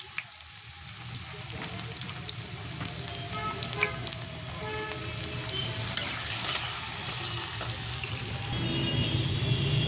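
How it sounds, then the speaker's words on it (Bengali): Beans, potato, carrot and onion for chow mein fry in hot oil with a steady, close sizzle, with occasional stirring clatter and a rising hiss toward the end. No one speaks. "এবার এক এক করে সমস্ত সবজিগুলোকে আমি দিয়ে দেবো।"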